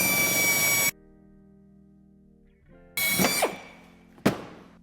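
A power drill whines briefly as its bit cuts a plastic tab on a 2022 BMW X1 U11 bumper, followed by a quiet pause, a second short burst of drilling and a sharp thunk at the end.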